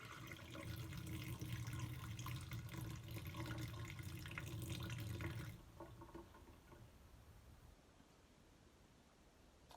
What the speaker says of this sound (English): gonna pour off the vinegar.